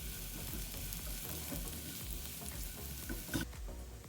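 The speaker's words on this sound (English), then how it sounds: "now I'm just waiting around for this stuff to caramelize" Breakfast food sizzles and fries in a pan as it caramelizes, a steady close crackle with occasional pops, no voices.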